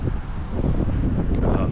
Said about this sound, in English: As you can see, it's still pretty windy here